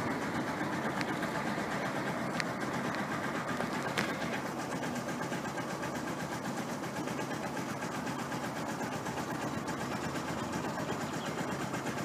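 A Zontes Monster motorcycle engine idles steadily, a continuous low mechanical drone with a faint rattly texture, holding an even level throughout with no voices.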